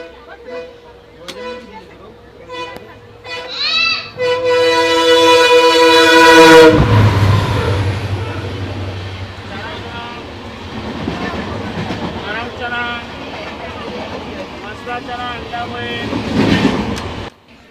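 A train passes near Lumding station in Assam, first sounding a long loud horn, then rumbling and clattering close by for many seconds while people talk over it.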